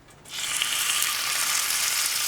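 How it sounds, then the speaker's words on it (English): A sudden loud sizzle bursts in as chicken for fajitas hits smoking-hot oil, then holds as a steady, crackling hiss of frying. "now I'm going to add our chicken, and you want to make sure it sizzles"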